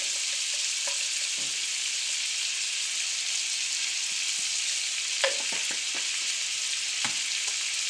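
Garlic and dry Italian herbs fry in a pan with a steady broadband sizzle, a few sharp pops and stirring clicks breaking through around the middle and near the end, with no voices.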